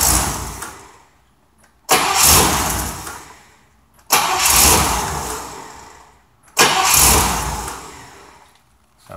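An engine cranks and fires three times in a row after its starter bushing was replaced, each start a sharp loud burst that settles and fades before the next, close and with no talking.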